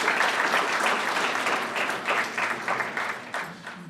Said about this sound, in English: You can give those people a round of applause, please.